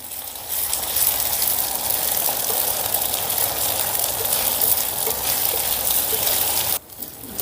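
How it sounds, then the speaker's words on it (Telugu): Ginger garlic paste fries in a pan with a loud, continuous close sizzle that drops away abruptly near the end, with no voices. "ఈ అల్లం వెల్లుల్లి పేస్ట్ని పచ్చివాసన పోయేంత వరకు ఫ్రై చేసుకుందాం"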